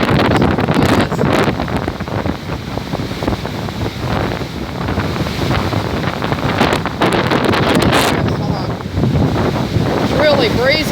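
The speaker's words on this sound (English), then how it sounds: "Really breezy through here." Strong wind buffets the microphone steadily for the whole stretch beside floodwater from February 2019 flooding, a loud rushing roar with gusts, with faint talk underneath.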